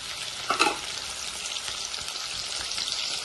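Onions and green chillies frying in hot oil for a country chicken curry with raw mango, a steady close sizzle with a brief louder crackle of stirring near the start, no talk.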